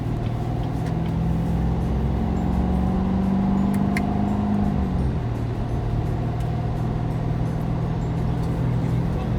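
Inside a C7 Corvette cruising on Highway 49 near Lake Wylie, a constant low engine and road drone with tire hum, a tone shifting down partway through, no one speaking.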